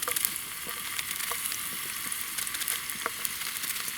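Chopped onion frying in oil in a pan over a gentle campfire outdoors, a steady close crackling sizzle with scattered sharper pops throughout, no voices.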